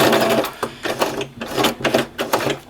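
A sewing machine stitches a patch onto loose jersey fabric near an outside corner, its needle thumping in a fast, steady pulsing rhythm, loud and close throughout.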